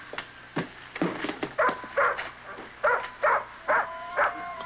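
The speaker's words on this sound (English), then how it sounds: "You're not gonna let that dog in here." A dog indoors barks in a run of short, sharp yips and bows mixed with whimpering, the barks coming in regular bursts, fairly close and loud, with no talking over them.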